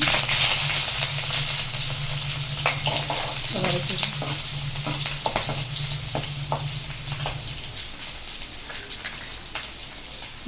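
Cumin, pepper, green chilli, ginger and cashews fry in hot oil, a continuous crackling sizzle with scattered pops and occasional stirring clinks, close and fairly loud.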